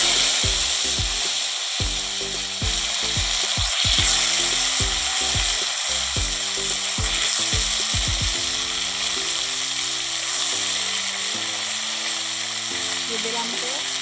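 Dal bori, lentil dumplings, fry in oil with panch phoron, giving a steady sizzle throughout while a strong, rhythmic low thumping music beat plays over it.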